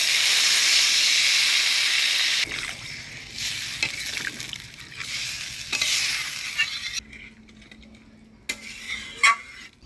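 Water poured into a pan of spiced potatoes and tomatoes that were fried in oil: a loud hiss and sizzle at first, then a sudden drop to a softer bubbling simmer with light clinks of a utensil against the pan.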